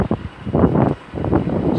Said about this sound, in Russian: Ветер боковой меня же заносит.